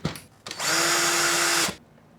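A power drill tightens a screw on a connector for a home office lighting track, with one steady whir of about a second that starts and stops abruptly after some faint handling noise, close and loud.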